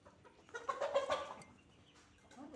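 Chickens clucking in a short burst, loudest near the middle, then trailing off into faint farmyard background.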